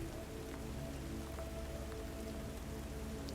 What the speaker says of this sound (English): the rain begins to fall more steadily, the sound soft but insistent, like a distant drumbeat